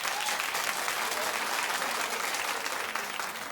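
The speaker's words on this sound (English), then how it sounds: "Clap if you don't like it." A television talk show studio audience breaks into sustained applause, a dense continuous wash of clapping that stays loud and even from start to finish.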